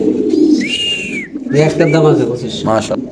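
Lahori pigeons cooing close by at a fancy pigeon farm, low throaty coos mixed with a whistle-like tone and other bird noise, while people talk over it.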